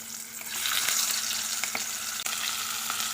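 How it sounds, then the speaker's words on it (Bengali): Fish heads frying in hot mustard oil in a wok give a loud, steady sizzle with a few faint clicks from moving pieces; no one speaks. "এখন দিচ্ছি মুড়োগুলো একটু ভালো করে ভেজে নেব"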